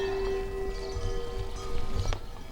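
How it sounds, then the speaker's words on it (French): Hooves of a herd of animals clip-clopping past on their way to pasture, a steady uneven patter of many steps at moderate distance, with a low background hum throughout. "Journée de travail rythmée par le passage du troupeau qui se rend au pâturage le"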